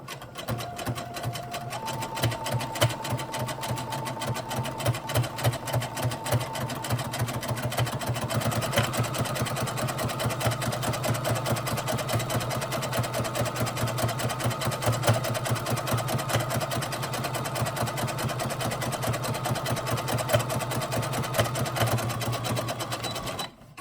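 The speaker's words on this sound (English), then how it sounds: "And again, we'll top stitch toward the frame." Sewing machine running steadily while top stitching a bra cup toward the frame, a close, continuous rapid mechanical whir with a fast even needle rhythm for the whole stretch, no talk.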